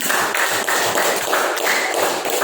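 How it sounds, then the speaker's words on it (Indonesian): Four students being applauded by classmates in a classroom: steady, dense clapping from a group, sustained and moderately loud with a regular pulsing texture. "berikan tepuk tangan untuk keempat teman"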